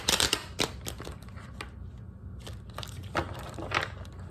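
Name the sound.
tarot card deck being shuffled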